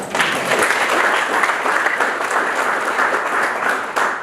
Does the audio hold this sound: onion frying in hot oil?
no